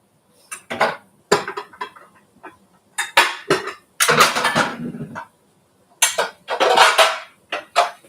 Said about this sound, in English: let me get the big pan that we're gonna need